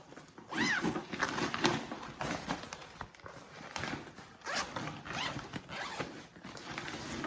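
Zipper pulled repeatedly along mesh packing cubes of three sizes, fast rasping zips in bursts with rustling fabric in between, close and fairly loud.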